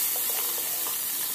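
Bay leaf and cinnamon sizzle steadily in hot oil in a pan after cauliflower has been fried, a continuous close crackling hiss with faint stirring, no voices.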